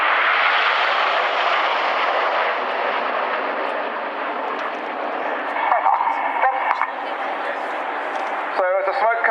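Red Arrows jet aircraft flying a swan reversal display manoeuvre at the Waddington air show in 2011, a sustained loud engine roar that swells and fades across the sky, with a commentator's voice under it.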